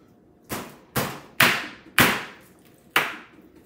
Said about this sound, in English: So take my knife, get in there, get in and make a groove